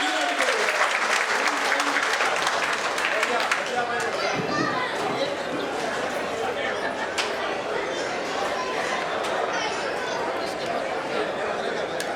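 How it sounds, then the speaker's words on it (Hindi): An audience at a Maharana Pratap Jayanti celebration in Mulund, Mumbai claps with both hands raised. The applause is dense and continuous, with crowd chatter and children's voices mixed in. "एक बार दोनों हाथ ऊपर उठा के ताली बजा के पहले"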